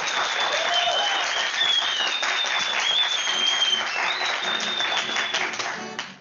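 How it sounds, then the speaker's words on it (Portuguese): Audience applause greeting the radio singers Emilinha and Marlene, a thick, sustained wash of clapping heard close and loud, with whistles and cheers riding over it before it fades at the end. "Aplausos, senhoras e senhores."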